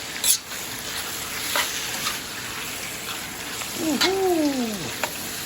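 Pork belly, liver and string beans sauté in a pan with a steady sizzling hiss and a few faint clinks of stirring, and a brief whistling squeal near the end.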